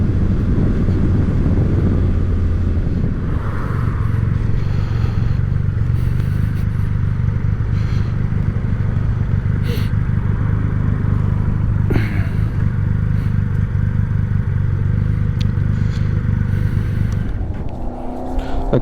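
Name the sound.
Triumph Rocket 3R motorcycle riding on wet roads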